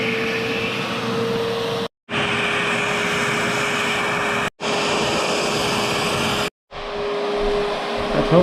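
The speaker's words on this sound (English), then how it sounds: "She couldn't find the attachment to do the vacuuming in the crevices, so she made her own." Vacuum cleaner fitted with a homemade crevice attachment, running loud and close as a steady whirring drone with a constant motor hum, cut off briefly three times and restarted each time.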